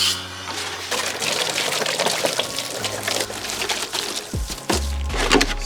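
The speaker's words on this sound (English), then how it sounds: "and get the water hose." A water hose sprays onto a Traxxas Slash 4x4 RC car, a broad hissing splash that runs steadily and shifts in tone as the stream moves, with heavier low gushes near the end.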